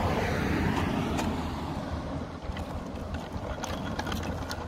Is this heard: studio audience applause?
no